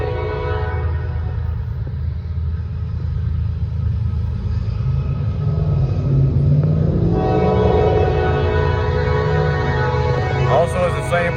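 A Norfolk Southern freight train rolls by on the Charlotte District, its loud, steady rumble filling the whole stretch while sustained horn tones ring over the top.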